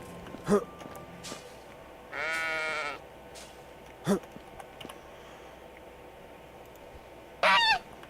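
Geese honk in the medieval farming game Medieval Dynasty, with sheep bleating nearby. Short scattered honks and a couple of longer bleats sound from a middle distance over a quiet ambient background.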